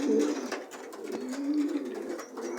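Racing pigeons, young homing birds just back from training in hot weather, coo in soft repeated rolling calls close by, with faint rustling and no speech.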